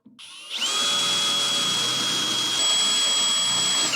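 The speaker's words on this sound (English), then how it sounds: "Let's start drilling." A power drill whines up to speed and runs steadily at a high, even pitch, loud and close, with no voices over it.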